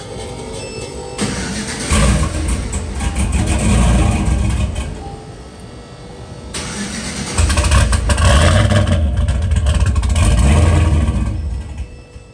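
A used car engine in a sleeper build cranks and churns without catching, rough mechanical grinding rising and falling in two long bouts, loud and near.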